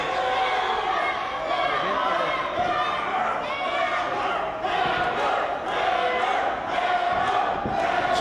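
A wrestling crowd roars steadily at an independent pro wrestling show, dense shouting and cheering sustained throughout with rising swells, loud and close, with no clear talk standing out.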